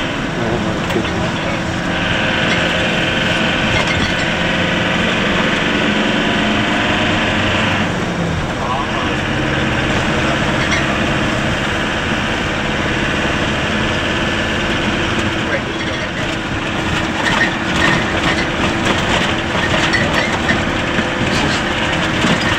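A train on the Ji Tong line in China rumbles past with an engine drone and rolling clatter, loud and continuous, while people talk over it.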